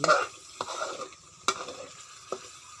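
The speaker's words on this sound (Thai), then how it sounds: "เราต้องผัดให้เขาหอมพริกเริ่มเปลี่ยนสี" Chilli paste for a fish dish, made from large red chillies, is stir-fried in a pan, giving a soft sizzle broken by a few distinct spatula scrapes and knocks.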